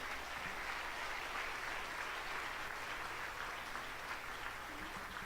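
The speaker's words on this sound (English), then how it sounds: "I just want to give a round of applause for Lorena and Mike Arias" Sustained, dense applause from a scholarship gala audience for the Victoria Teresa Arias Foundation, steady and loud throughout without a break.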